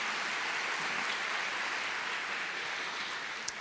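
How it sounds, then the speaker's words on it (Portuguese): A church congregation applauds together for several seconds, a steady dense wash of clapping with no voices, holding at an even level until it ends. "Então dá uma salva de palmas para Jesus."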